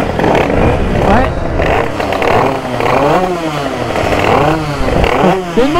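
An 80cc motorcycle revving hard while cornering, its buzzing engine rising and falling in repeated pitch sweeps, loud and close, with people talking over it.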